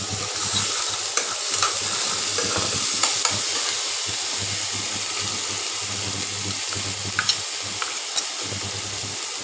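Grated tomato puree hits a hot pan for Kashmiri-style potato curry, frying with a steady sizzle while a spoon stirs and scrapes in repeated clinks, close up with a low background hum.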